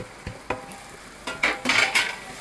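Crushed tamarind leaves stirred into a village-style mutton head curry, with a few soft spoon scrapes and knocks against the pot and a light sizzle, close and alone.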